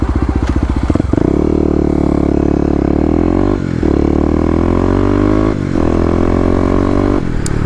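A Kawasaki KLX250 dirt bike engine fitted with an EJK fuel controller, heard close and loud: a sharp snap of the throttle into a sustained high rev, which dips briefly twice and then climbs again.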